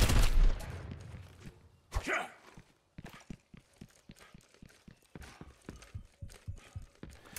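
Soldier 76 grenade jumps in Overwatch on the Hanamura map: a loud blast at the start, a second burst near two seconds, then a run of sharp rhythmic footfall-like clicks and thuds, with no talk.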